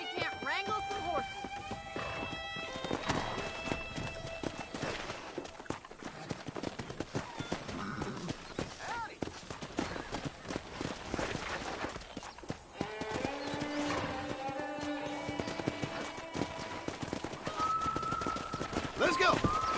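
Galloping hooves and horse sounds in the video game Red Dead Redemption while wrangling horses, a busy, continuous clatter mixed with game music, gunfire-like bursts and a voice speaking over it.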